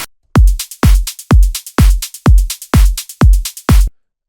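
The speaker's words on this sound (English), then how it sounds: "The drums group sounds like this." Eight punchy electronic kick-drum hits from a melodic techno drum loop thump at a steady tempo, each with a sharp attack and quick decay, ending in silence.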